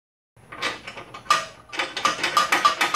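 A ratchet on a swivel socket working loose 21 mm crossmember bolts on a 2007-2014 Chevrolet Tahoe, a close, loud run of rapid metallic clicks in uneven bursts after a brief silence.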